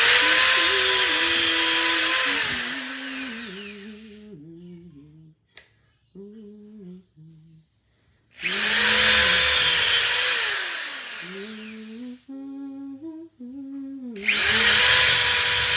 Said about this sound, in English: I really see the need to have a cordless drill.